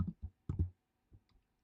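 A handful of sparse, clicky keystrokes on a computer keyboard as a password is typed, coming in short irregular bursts with brief pauses between them.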